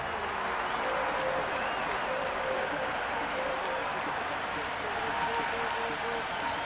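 A large crowd in the cricket video game Cricket 26 roars and applauds steadily, a dense wash of cheering that fills the whole stretch, with a commentator's voice faintly underneath.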